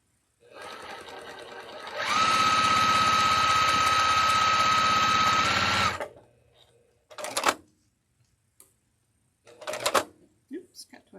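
Sewing machine piecing quilt segments, stitching in one loud continuous run of about four seconds before stopping, followed by short clicks and handling noises nearby.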